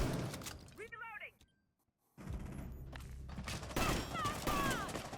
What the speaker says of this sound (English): They are shooting guns at each other